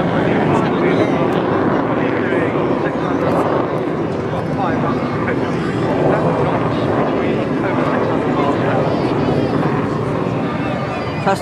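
A Hawker Hunter jet flying away at the 2011 Clacton airshow, its broad steady roar filling the whole stretch at high level, with wind buffeting the microphone and voices in the background.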